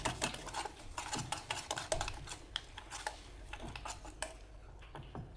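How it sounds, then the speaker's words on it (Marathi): Rava cake batter with a pinch of turmeric stirred in a bowl: quiet, irregular clicks and taps of a spoon against the bowl at a steady mixing pace, with no talk. "आणि हे परत सगळं मिक्स करून घेते."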